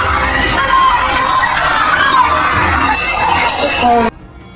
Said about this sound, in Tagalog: Sigawan ang mga fans sa venue habang pilit bumabawi ang Indonesian champion.